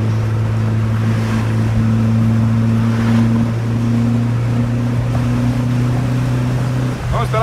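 A Volkswagen Variant 1600 on the road, its steady engine hum rumbling under roadside ambience before a brief rise and shift at the end, with no clear speech.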